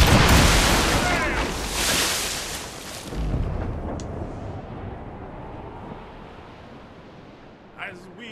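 Ship cannons fire in Assassin's Creed Rogue in a heavy, booming broadside, several roaring blasts in the first seconds rolling into a long rumbling decay, with voices and ambient sea noise beneath.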